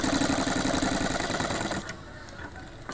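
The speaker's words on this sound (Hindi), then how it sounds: "तो यहाँ से फिर सिलाई कर लीजिए" A sewing machine stitching the side pocket of a pair of pants, running with a fast steady whirring buzz for about two seconds before stopping, leaving a quiet room.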